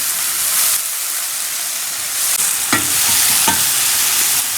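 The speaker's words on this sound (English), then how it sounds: "So we'll just get the mushrooms going." Mushrooms fry in a crowded pan with a steady, loud broadband sizzle, broken by a couple of sharp clinks and scrapes from stirring.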